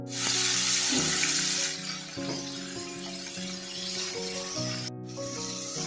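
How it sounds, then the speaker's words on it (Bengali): Prawns coated in salt and turmeric fry in mustard oil in a wok, giving a loud, steady sizzle that eases slightly partway through, with a low, tonal musical backing running underneath. "কড়াইয়ের ভিতরে যে তেল আছে, এই তেলের ভিতরে আমি চিংড়িটা অল্প ভেজে নেব।"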